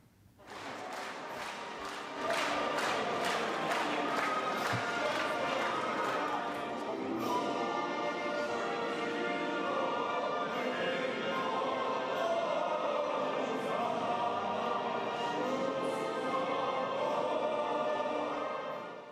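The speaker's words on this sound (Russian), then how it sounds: "Вот так торжественно, аплодисментами, с шампанскими, со слезами на глазах 28 июня 1996 года приветствовали новую Конституцию Украины народные депутаты" Parliament deputies give sustained loud applause and cheering for the new Ukrainian Constitution in 1996. Dense clapping swells after a couple of seconds and holds steady at full volume in a large chamber.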